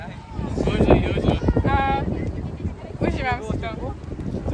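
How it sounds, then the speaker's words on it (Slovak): Strong wind buffets the microphone outdoors, gusting with heavy low rumble throughout while several people talk and a voice rises over it. "Vôbec vám takýto veter nevadí?"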